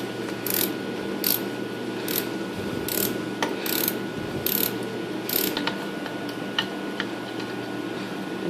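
A hand ratchet clicks in repeated bursts as it backs out a small 8mm bolt on the guard plate of a power steering pump on a 3.4 liter Pontiac Grand Am or Olds Alero, close and clear with no talking.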